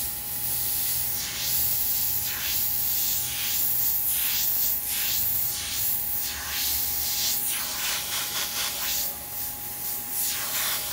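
Airbrush spraying pink paint in a starburst onto a T-shirt, a continuous close hiss pulsing in short repeated bursts.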